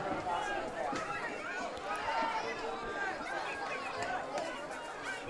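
Crowd at a high school Class D football semifinal between Oak Hill and Foxcroft, a steady babble of many voices from packed stands filling the whole stretch, with no standout cheers.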